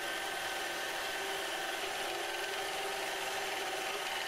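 A steel test shaft spinning dry with no lubricant left, giving a loud, constant grinding, rubbing friction hiss that never lets up.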